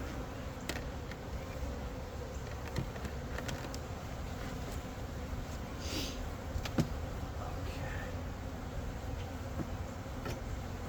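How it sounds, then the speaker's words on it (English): Carniolan honeybees from a hive that recently swarmed hum in a steady, dense drone throughout an open hive inspection, with a few louder individual bees passing close by. "There's still a lot of bees in here."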